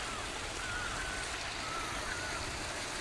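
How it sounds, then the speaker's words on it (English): A small waterfall in a tropical rainforest pours steadily, a continuous broadband rush of falling water that stays even and fairly close throughout, with faint bird-like chirps above it and no talking. "There's a little waterfall."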